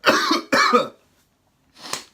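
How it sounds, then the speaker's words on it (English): Two sharp coughs in quick succession, close and loud, then a pause and a softer third cough. "I'm coughing."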